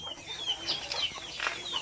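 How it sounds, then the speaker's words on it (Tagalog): Chickens cluck and murmur softly nearby, a few scattered high chirpy calls over a quiet background with no talking. "May mga manok din siya dito."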